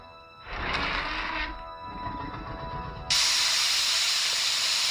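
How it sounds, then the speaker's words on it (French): Steam hisses in a Godzilla animation, first a rough rushing burst, then a sharp, bright, continuous hiss that cuts in suddenly and holds loud to the end. "Oh la vapeur."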